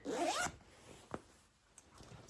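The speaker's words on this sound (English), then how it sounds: "Check out the zipper, and it's actually nice quality zipper. Zips nicely." A zipper on a cropped workout jacket is pulled in one quick, loud rasping stroke, followed by a few faint clicks and small handling sounds from the zipper pull.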